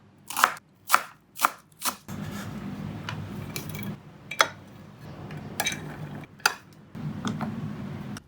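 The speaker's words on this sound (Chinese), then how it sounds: "香葱切碎" Scallions chopped with a knife on a cutting board: four sharp, evenly spaced chops, then a rustling pause and a few more irregular knocks, close and crisp.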